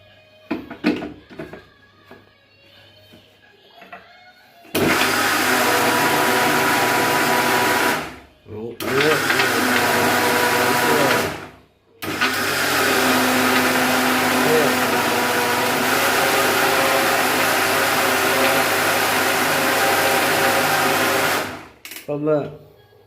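A mixer grinder grinding flour roars loud and steady in three long runs, each cut off by a brief pause, after a short stretch of quiet talk at the start.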